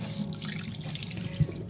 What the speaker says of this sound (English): Anytime you want water, you have to pump down here.